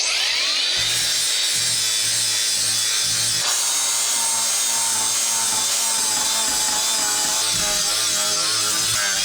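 A metal scraper tool strips thick paint from the wooden parts of an outhouse at a Finnish off-grid cabin, a loud, continuous harsh rasping scrape with shifting pitch and no voices.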